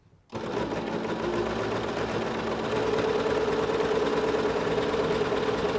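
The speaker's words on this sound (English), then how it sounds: "Once we get all set up, we are going to push the pedal and sew." A Singer SewMate 5400 sewing machine starts with a pedal press and runs steadily, a close, even mechanical whir and rapid needle rattle that holds for several seconds without talk.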